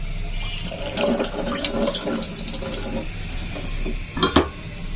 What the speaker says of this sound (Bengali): আলুটাকে ধুয়ে নেব